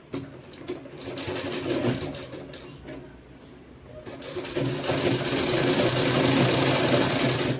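A sewing machine runs steadily while top-stitching the folded edge of a sleeveless kurti, a close, continuous mechanical whirr that dips briefly in the middle and then grows louder and fuller.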